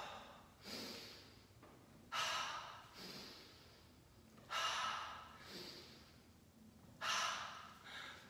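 Slow, deep breaths during a qigong exercise with bent knees. Four or five long, airy exhales and inhales come at an even pace, close and fairly soft, with quiet pauses between them and no speech.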